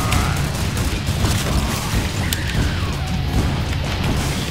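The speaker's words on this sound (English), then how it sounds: "Where's these explosions coming from?" In Killing Floor 2, dense, continuous rumbling booms and blasts, loud and sustained, with scattered crackles and no clear pauses.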